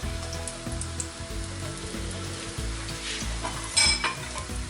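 Steady, crackling sizzle of onions sautéing in hot oil for a green moong and mushroom curry, close and continuous, with a brief louder burst near the end.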